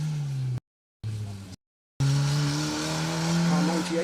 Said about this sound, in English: Car 98 just going past us, Gareth Parry and Lewis Griffiths